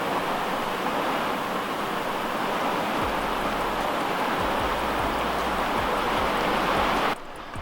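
Steady rain falls outside around a van being converted into a campervan, producing a dense, loud continuous hiss with faint low thumps underneath, and no speech.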